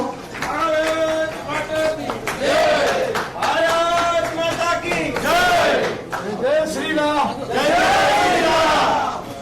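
Loud, sustained applause and cheering from a large crowd at a Gujarat BJP party event in Gandhinagar, rolling in dense waves with shouted voices throughout.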